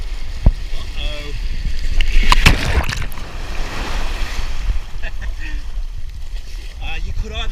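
Ocean waves washing in at Culburra Beach before breakfast, a broad steady surf wash with a louder swell around the middle, mixed with wind buffeting the microphone and scattered voices talking nearby.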